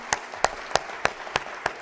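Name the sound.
round of applause for Claire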